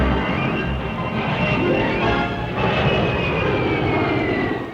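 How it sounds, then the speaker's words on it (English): A jet flying boat fighter roars through aerobatics, its engine a loud, continuous rushing drone that swells and eases slightly as it passes nearby, with no talking. "Aerobatics by a jet flying boat fighter put more accent on speed and power."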